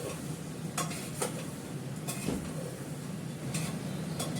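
Sour mango dish frying in a pan while being stirred, a soft continuous sizzle with a few sharp scrapes and clinks of a utensil against the pan, no talk.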